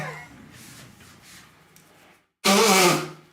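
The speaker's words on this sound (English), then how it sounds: "I gotta blow my nose." After a quiet stretch of faint rustling, a single loud, wet nose blow from someone with allergies bursts out close to the microphone, lasting under a second.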